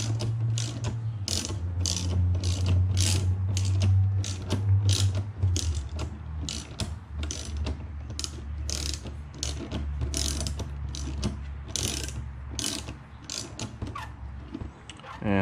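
A pusher tool forces an axle bushing out of an MRP Hazard coil shock, giving a steady run of close, loud ratcheting clicks over a low mechanical drone for the whole stretch.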